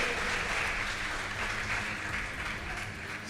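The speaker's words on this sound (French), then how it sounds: "Vous applaudissez à nouveau les deux capitaines." A school quiz-show audience applauds the two team captains, steady dense clapping that fills the room for the whole stretch without a break.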